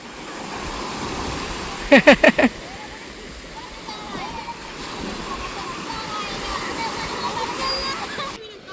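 Surf washes steadily onto a Lakshadweep beach as people head into the sea to bathe, a broad continuous roar with a few sharp, loud bursts of activity early on and voices chattering throughout.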